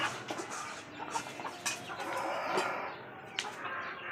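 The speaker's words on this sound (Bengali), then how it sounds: "ওরা অনেক দুষ্ট দেশি মুরগি বলে কথা" Native chickens on a Dhaka rooftop cluck in short, irregular bursts at close to moderate distance over a soft, steady background.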